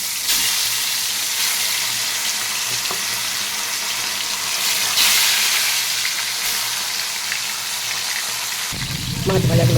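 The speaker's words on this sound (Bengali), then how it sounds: "এদিকে কড়াইয়ের তেলটা গরম হয়ে গেছে, আমি মাছ ভাজাগুলোকে এক এক করে ছেড়ে দিচ্ছি।" Pieces of fish dropped one by one into hot oil in a wok, giving a loud continuous hiss of frying that holds steady, with a brief low rumble near the end.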